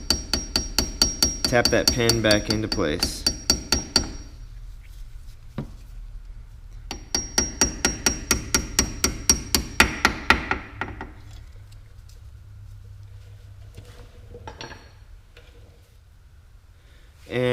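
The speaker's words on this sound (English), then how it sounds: "grab a hammer and go ahead and tap that" Two runs of quick, sharp hammer taps on a metal brake pad pin, each a rapid rhythmic series, followed by a pause and someone speaking briefly.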